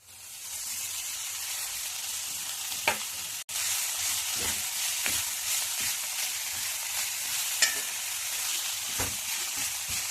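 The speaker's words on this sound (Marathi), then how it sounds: "आणि आता ही मेथी छान आपण आधी शिजवून घेऊया." Finely chopped fenugreek leaves (methi) frying in a pan with ground coriander and cumin, a steady even sizzle with a few soft clicks of stirring, heard alone.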